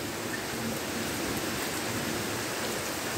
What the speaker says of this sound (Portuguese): Uma ótima chuva.